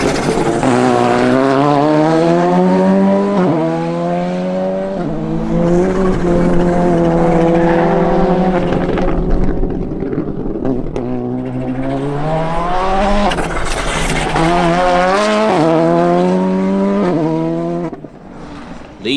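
A Ford Fiesta rally car and other rally cars on a rally stage: a loud, close engine howl climbing and dropping through the gears, with repeated surges, lifts and brief tire noise, and no talk.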